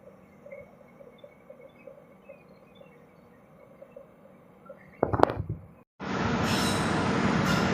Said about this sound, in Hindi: दोस्तों ये अब कोई तो ट्रेन है जो कि मुझे नहीं पता कौन से